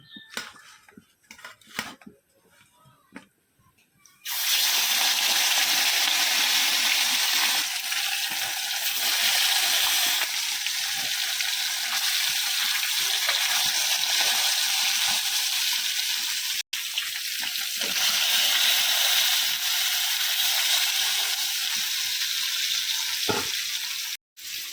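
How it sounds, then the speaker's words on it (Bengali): Fish frying in a pan of hot oil, part of it reused from the night before, gives a loud, steady, close sizzle lasting about twenty seconds, preceded by a few quiet clinks and clatters. "এখন মাছটা ভেজে নেবো"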